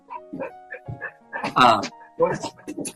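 A dog outdoors on a hot 94-degree day barks and yips in a short series of sharp, fairly close bursts with brief pauses between them, the loudest bark in the middle.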